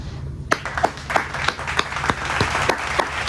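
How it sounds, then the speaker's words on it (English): Applause for Michael Jackson comes as scattered, distinct handclaps, a small, uneven patter of individual claps at moderate loudness rather than a full roaring crowd. "Give a round of applause for Michael Jackson"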